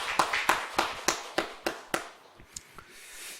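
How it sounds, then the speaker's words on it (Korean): Short round of applause from a church congregation during a Sunday afternoon service, about a dozen separate claps in an uneven rhythm that fade toward the end, fairly sparse and nearby with no voices. "우리 하나님께 영광의 박수 올려드리겠습니다."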